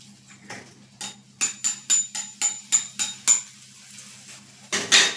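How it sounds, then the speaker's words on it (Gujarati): Close, rhythmic rasping strokes of a grater scraping cheese, about ten quick passes with a short pause near the end. "આ રીતે છીણીની મદદથી તેને છીણી લેવાનું છે"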